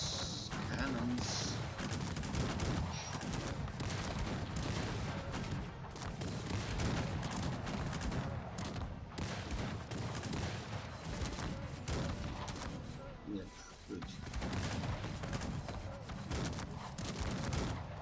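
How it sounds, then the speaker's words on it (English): Cannon and musket fire in the real-time strategy game Cossacks 3, a continuous muffled battle din of booms and volleys at moderate distance, steady and layered throughout. "Cannons."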